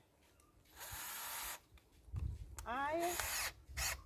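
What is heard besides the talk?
power drill boring into maple tree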